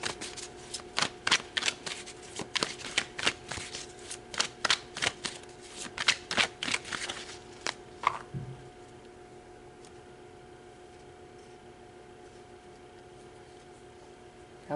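Tarot cards being shuffled close up, with a quick run of crisp riffling bursts over several seconds before the sound stops and quiet room tone remains.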